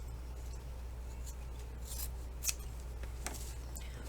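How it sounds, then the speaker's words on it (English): Fabric scissors cut through fabric on a diagonal for a hat, giving soft, quiet snips and rasps over a steady low hum. "And then we're going to be using fabric scissors. And we are going to cut on a diagonal here"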